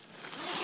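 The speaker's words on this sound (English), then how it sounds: "the zippers are frozen too" A frozen zipper on a Russian Bear tent in snowy conditions, pulled in one short rising rasp that grows louder over under a second, alone without talk.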